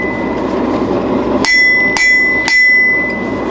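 Three sharp ringing hammer blows strike metal roughly half a second apart, loud and close, following a stretch of steady workshop noise.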